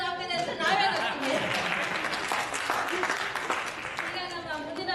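An audience at a Kannada community Deepavali celebration breaks into steady applause that lasts a few seconds, with a voice talking over the clapping.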